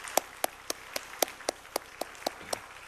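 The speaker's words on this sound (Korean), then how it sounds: "뜨거운 박수로 감사하죠." Sharp, distinct hand claps from a church congregation land in a regular beat, roughly four per second, crisp and close during an early-morning prayer service, with no talking.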